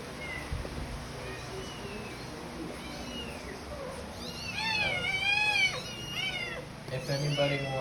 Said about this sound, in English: These cats need to eat, so I'm gonna give them some meowings.